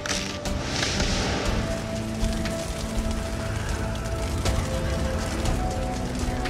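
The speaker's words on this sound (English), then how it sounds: "Hail and wind attacked the castle roof every day and took off its slates one by one." Hail and wind batter a castle's slate roof as a storybook sound effect, a dense, steady rattle of pelting drops with a low rushing roar beneath, loud and continuous throughout.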